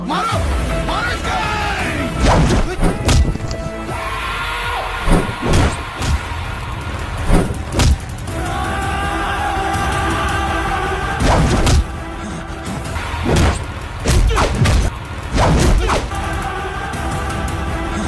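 A staged fight in a comedic spoof of a KGF movie scene, with loud repeated thuds and blows landing amid shouting and yelling voices, the impacts scattered irregularly through a dense, noisy mix.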